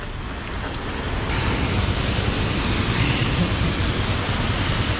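Steady rain pouring down in Mexico City, a dense hiss of drops spattering on surfaces, loud and continuous without pause.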